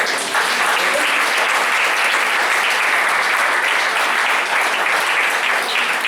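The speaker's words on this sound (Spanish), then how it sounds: "Denle palmas a Dios." A church congregation claps to praise God during a service, a dense, loud, continuous burst of many hands filling the whole span without pause or speech.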